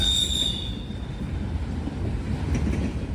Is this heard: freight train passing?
yes